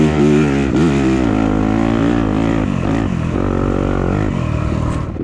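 A stock Yamaha YZ250F four-stroke dirt bike racing in a harescramble roars loudly and close, its engine pitch climbing and dropping through shifts and throttle changes across the whole stretch.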